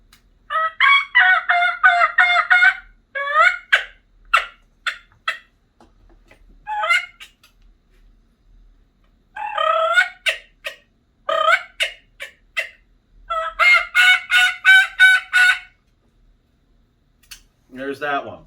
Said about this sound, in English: the sounds of the turkey.